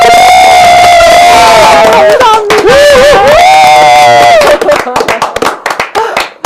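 A crowd celebrating a presidential impeachment verdict in Korea roars loudly, with a long sustained shout of cheering voices up front before scattered claps and bursts break through as the noise starts to thin.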